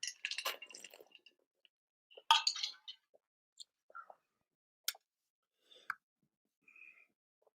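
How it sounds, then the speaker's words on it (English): Someone sips and swallows water in a quiet room, with a few soft gulps and glass clinks spaced apart, faint and close, followed by small scattered clicks. "Drink some water."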